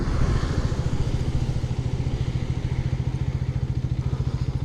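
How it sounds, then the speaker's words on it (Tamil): A 250cc sports motorcycle moves off in second gear, its engine giving a loud, steady, low throbbing pulse close by throughout, with no talking. "இப்போ நான் வந்து செகண்ட் கியரில் பைக்கை ஸ்டாப் பண்ணியிருக்கேன். மூவ் பண்ணுறேன்."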